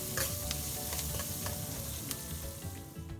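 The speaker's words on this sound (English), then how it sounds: "let it splutter and fry" Oil sizzles and spatters steadily, with sharp little pops of curry leaves, dry red chili and green chilies crackling in the pan close up.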